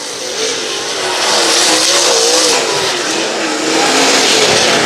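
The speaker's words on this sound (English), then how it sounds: "One last time around Brownstown Speedway for the D48 of Derek Groomer." Super late model race cars roaring around Brownstown Speedway during a heat race, a continuous loud engine drone with rising and falling pitch as the cars pass, with no talk over it.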